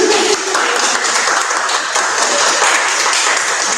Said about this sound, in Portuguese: a gente pode dar uma salva de palmas